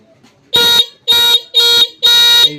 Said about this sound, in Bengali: এবারে হর্নটা দেখি বাজাও